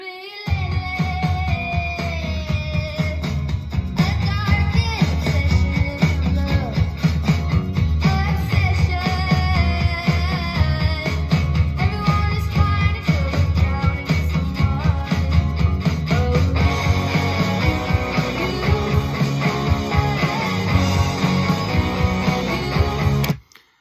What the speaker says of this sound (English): what you're hearing there is the demo of the song